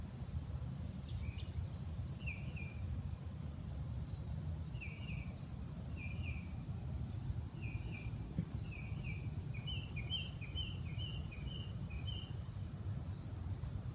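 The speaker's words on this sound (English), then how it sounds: "Can you hear those birds," Wild birds chirp outdoors in short repeated bursts of high tweets, moderately distant, over a steady low rumble of background noise, with a quicker run of calls near the end.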